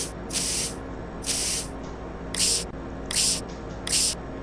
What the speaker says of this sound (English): now We are just spraying with the acid to clean the remaining parts